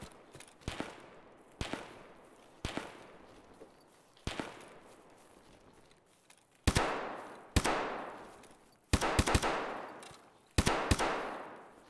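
Gunfire in Escape from Tarkov: a series of sharp single shots and short bursts, some distant and echoing with long tails, others louder and closer, spaced irregularly across a quiet outdoor backdrop.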